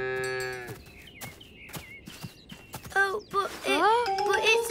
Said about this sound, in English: It's an enormous cow